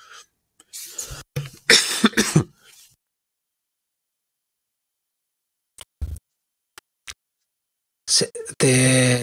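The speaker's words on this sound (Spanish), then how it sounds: "la tos se ha oído" A few sharp coughs up close, followed by quiet gaps with small clicks, then a voice starts speaking.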